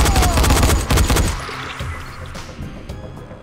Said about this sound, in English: Ran out of ammo.